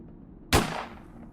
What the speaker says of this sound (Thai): เสียงปืนดังขึ้น